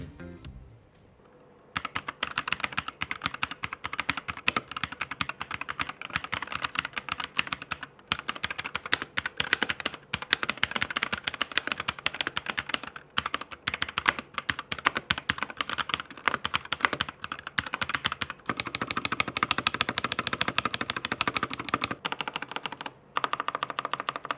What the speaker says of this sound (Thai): DK Ultra Series เป็นคีย์บอร์ดไร้สายที่มีสีสันสวยงาม ใช้ได้ทั้ง Mac แล้วก็ Windows